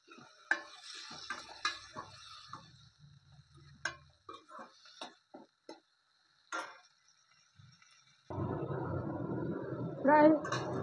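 Hard vegetables with a little salt fry in a pan for a Barisal-style mixed vegetable dish, with scattered utensil clicks and scrapes before a steady, close sizzle swells up in the final seconds.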